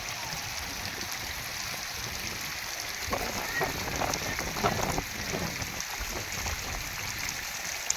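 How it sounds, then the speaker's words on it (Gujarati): Rain falling during a spell of several days of wet weather, a soft, steady hiss of drops on surfaces that swells slightly in the middle, fairly quiet and distant. "હમણાં ત્યાં ઘણા દિવસથી વરસાદ ચાલુ છે"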